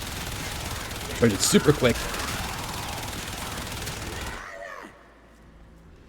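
Full-auto fire from a Soma Prime rifle in the Warframe shooter comes as a short rapid burst of loud crackling shots over a steady game backdrop, with a voice speaking briefly before the sound drops away.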